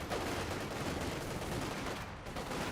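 Dense infantry small-arms gunfire from a Company of Heroes 2 battle, with Jaeger Light Infantry engaging, a continuous overlapping clatter of rifle and machine-gun bursts holding steady and loud throughout, with no voices.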